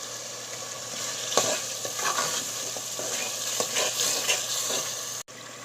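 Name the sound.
frying masala spices with salt and turmeric in a pan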